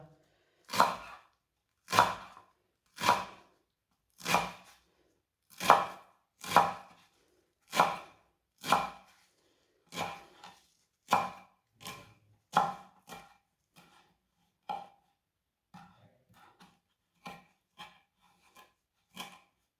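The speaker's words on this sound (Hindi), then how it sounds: "ऐसे ऐसे बारीक बारीक ज़रूर काट लेना है" A knife chopping mint stems finely on a board: a steady run of sharp, close thuds about once a second that becomes quicker and softer toward the end, with no voices.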